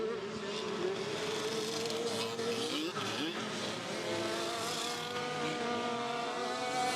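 Racing go-karts in a state title heat at a kart circuit, engines howling hard under full throttle with rising and falling pitch as several karts accelerate and pass, loud and continuous throughout.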